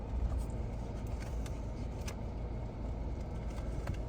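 A 2021 Toyota RAV4 2.0L petrol CVT idles with a steady low engine rumble, constant and close, with faint small clicks now and then.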